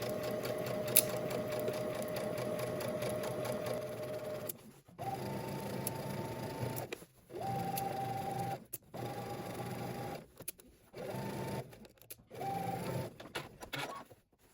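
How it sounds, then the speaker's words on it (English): A sewing machine stitches a seam with a 5/8-inch allowance, its motor whirring in steady bursts of fast mechanical chatter broken by short pauses, close and fairly quiet. "now you're going to head to your sewing machine"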